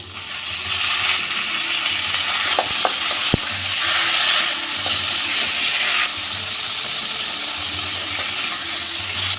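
Boiled taro leaves are stirred into rohu fish head masala frying in a pan, a continuous close sizzle with scraping spoon strokes and a few sharp clinks against the pan, no talking.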